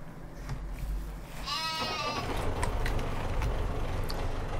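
A sheep in Farming Simulator 15 gives one clear bleat near the middle, heard over a steady low rumble of game ambience and vehicle noise, with no talking.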